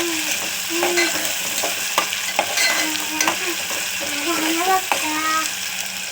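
Onion and tomato sizzle and fry in a pan over a lowered gas flame, a steady hiss broken by scraping stirs and occasional clinks, with a voice speaking now and then.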